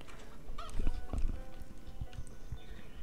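Chickens in the video game Divinity II cluck and squawk in short bursts over a busy background of clattering effects, fairly close and moderately loud.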